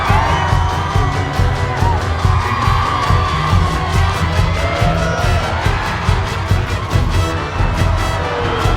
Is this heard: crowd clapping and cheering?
yes